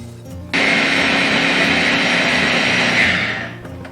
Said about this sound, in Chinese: 我们最好是用这个搅拌机给它搅一下